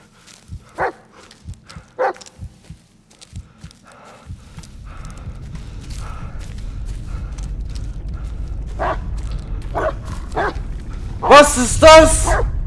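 In the Blair Witch video game, a dog barks in short, spaced bursts, then a distant rumbling ambience builds and a louder, closer flurry of barks and yips erupts near the end.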